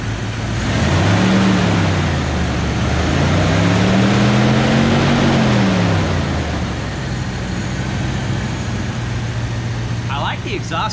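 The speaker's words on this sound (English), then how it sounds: "These actually purr pretty good, which is kind of funny considering it's stock exhaust on it." A 1995 Jeep Grand Cherokee ZJ in original condition, on stock exhaust, idles with a steady low throb. It revs up twice in smooth rising and falling swells, then settles back to an even idle, loud and close.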